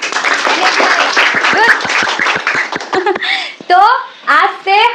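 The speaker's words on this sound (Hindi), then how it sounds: "तो आज से जोर से बजाओ, पैसा लग रहा है क्या ताली बजाने? जोर से बजाओ।" Students clap in a classroom with a quick, regular burst of hand claps, loud and close, mixed in with children's voices and a teacher talking.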